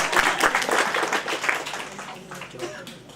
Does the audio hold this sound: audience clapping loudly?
yes